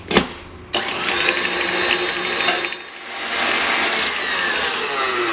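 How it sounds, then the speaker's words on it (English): Electric mixer whisking butter in a mixing bowl for a rum and brandy fruit cake, a steady close motor whirr with slight shifts in pitch and load, running continuously after a brief start. "I'm going to add the butter into the mixing bowl and going to whisk that about 2 minutes until nice creamy and pale"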